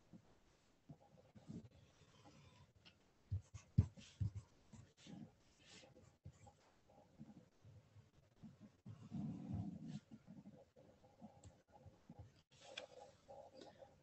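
Pen or marker strokes drawing two diagonal lines across a rectangle in a geometry lesson, faint scratchy scraping in short bursts over a quiet room tone.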